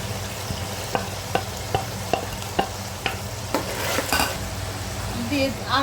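Chopped carrots being stir-fried with chicken and shrimp for fried rice, a steady sizzle with a utensil scraping and clinking against the pan at a regular rhythm.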